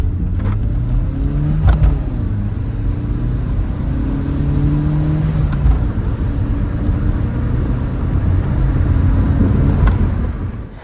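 A BMW 1 Series E87 with a new exhaust rumbles deep and close, its engine revving in a few swells over a steady low drone, with no talking.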